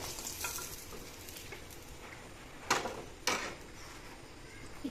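Turmeric powder fries in a pan for an egg curry with spiny gourd, giving a faint, steady sizzle with two sharp scraping clicks of stirring partway through, close by and without talk.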